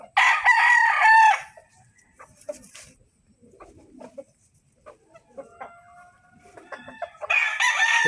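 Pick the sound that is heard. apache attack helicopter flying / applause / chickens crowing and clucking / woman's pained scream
chickens crowing and clucking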